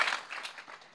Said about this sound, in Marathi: जरा टाळ्या जोरदार वाजवा